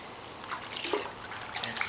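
Water in a pool splashing and trickling as a child is lowered in, soft close sloshes and drips in a short burst, fairly faint.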